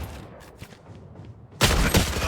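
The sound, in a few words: gunfire in a shooting video game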